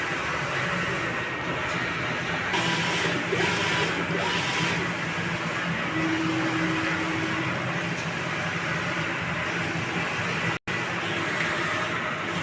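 A 6-foot four-head sublimation printer runs a nozzle test, producing a steady mechanical hum with faint whirring carriage movements and brief tonal motor whines, heard close without speech.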